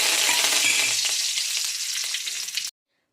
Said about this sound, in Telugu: ఆయిల్ వేడి అవ్వగానే నేను జీలకర్ర, కరివేపాకు, ఆవాలు అయితే వేసుకుంటున్నానండి.